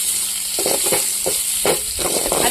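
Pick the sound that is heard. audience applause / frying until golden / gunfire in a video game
frying until golden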